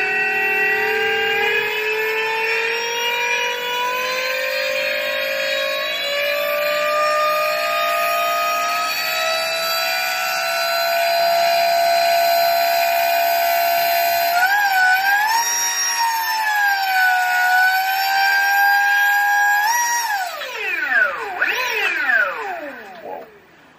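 A 50kW electric supermoto motor spins up near top throttle, producing a loud rising electric whine with strong tonal harmonics that holds, wavers, then sweeps down and up again before tapering off; no speech.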